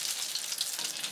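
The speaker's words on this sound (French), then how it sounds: "je verse un peu de pâte dans l'huile pour faire des petits éclats de pâte" Tempura batter drizzled into hot frying oil for shrimp, sweet potato, eggplant and lotus root tempura gives a steady, close, bright sizzle that carries on without a break for about a second.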